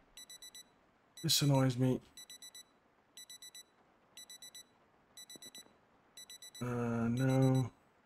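An alarm clock in the video game Project Zomboid rings in short repeated bursts of high electronic beeping, about once a second, while a person speaks briefly twice over it.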